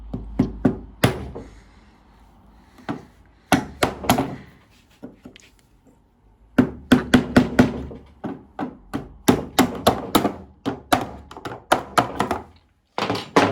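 Repeated sharp knocks of a wooden block tapping a double-glazed PVC window's glazing bead in quick clusters with short pauses, close and loud, no voices.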